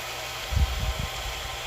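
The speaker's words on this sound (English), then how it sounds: "Now the wind just picked up." Hurricane feeder-band wind in Venice, Florida roars as a continuous broadband rush, with a few low buffeting gusts against the microphone partway through.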